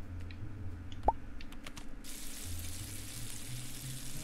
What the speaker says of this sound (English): Let's cook a banana.